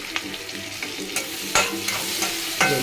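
Chillies fry in hot oil in a pan for a country chicken curry, a continuous close sizzle broken by regular stirring scrapes and soft clatters, with no voices.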